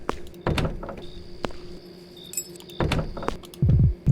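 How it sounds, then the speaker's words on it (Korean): Keys jangle at a front door being locked late at night, with several solid door thunks and clicks spread across a few seconds, close and fairly loud. "대문이라 현관문을 잠가야 해."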